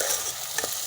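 Karela and chana dal roasting in a pan with ginger and garlic paste, a dense, close frying hiss that stays fairly even and carries one faint scrape, with no voices.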